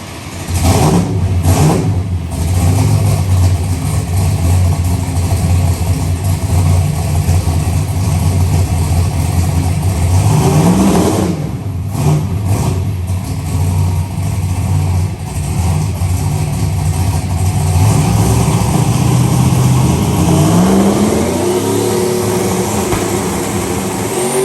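A turbocharged LSX V8 in a truck revs hard on a dyno in a cold shop with open doors, with several loud pulls rising and falling and then a long sustained high-rpm run, no talking.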